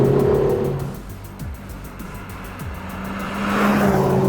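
A Lotus Emira sports car's small engine revs hard, climbing in pitch through several quick gear changes, then surging again; loud and close, no talking.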